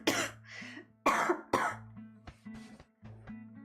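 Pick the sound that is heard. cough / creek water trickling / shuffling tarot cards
cough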